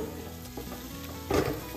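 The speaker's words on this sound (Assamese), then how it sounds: "এতিয়া চিকেনখিনি সিজি নোযোৱালৈকে এইখিনি একদম ল' ফ্লেমত এইখিনি ভাজি থাকিম।" A chicken filling fries over a very low flame with a steady close sizzle, and brief stirring scrapes come near the end.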